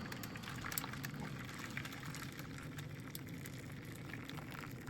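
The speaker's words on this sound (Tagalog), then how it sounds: "So maglalagay tayo ng tubig. Kalahati nitong pan." Hot water is poured into a pan for baking leche flan, a faint, steady hiss of flowing liquid with no talk.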